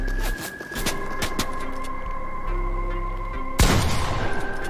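Sniper fire and other gunshots crack through a Fortnite match: a few sharp shots early, then a loud blast near the end followed by rapid fluttering bursts, all over steady game background noise, no voices.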